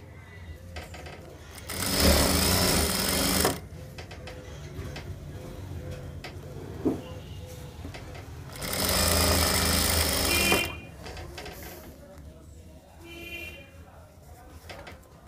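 A home sewing machine stitches elastic onto the waistband of pajama pants in two loud, buzzing runs of about two seconds each, with quieter handling and room noise in between.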